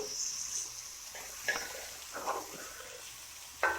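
Fish pieces for Mysore-style fish varuval fry in a pan with a soft, steady sizzle, punctuated by a few brief clinks and scrapes of turning in the pan.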